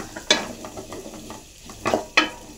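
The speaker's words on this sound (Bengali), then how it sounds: "একটা বড় আলু, এটা দিয়ে এবারে কষা করব।" A big potato being sautéed in a pan, with a quiet sizzle underneath and a few sharp scraping knocks of a spoon against the pan, two of them close together near the end.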